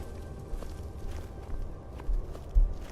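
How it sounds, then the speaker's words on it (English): Footsteps of a player character walking in Skyrim Special Edition, a steady run of soft, low thuds over a dull ambient bed, with two heavier steps near the end. "So we can still hear our own footsteps."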